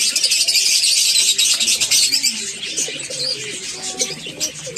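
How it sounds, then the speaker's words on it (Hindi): Pigeons in a breeding loft, soft repeated cooing mixed with chirps and fluttery bird calls, close and fairly loud, with no talking heard. "आपको कबूतरों का व्यू करवाने जा रहा हूँ।"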